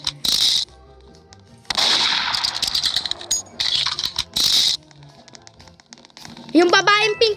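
Bursts of video game gunfire come in short loud volleys between stretches of quieter game sound, with voices talking throughout and a tonal game cue near the end.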